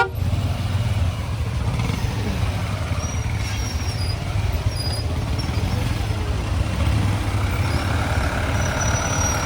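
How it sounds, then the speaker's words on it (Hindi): Steady traffic rumbles along a single-lane mountain road to Sonprayag on the Kedarnath route, with a continuous low engine drone from trucks and cars passing close by and no talking. "ये ऊपर से जो सोनप्रयाग से गाड़ी आ रही है वो इस वक्त आ रही है"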